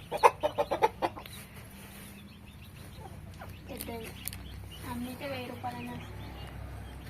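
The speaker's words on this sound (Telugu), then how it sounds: "రెండు కోడి పుంజులు ఉన్నాయి" Two roosters give a quick run of loud, rhythmic clucks at the start, then softer fowl calls continue amid background farmyard noise.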